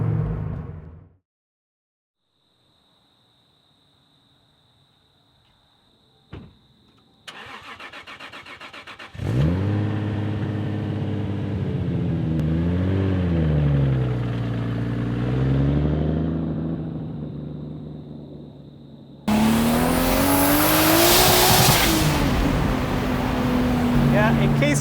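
Toyota Supra sports car engine revving and accelerating loudly, pitch rising and falling through gear changes, with a sharp burst of louder engine roar near the end; talk is heard briefly early on.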